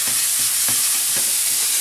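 Steak returned to a pan with mixed ingredients, a loud close hissing sizzle with a few soft rhythmic stirring thumps.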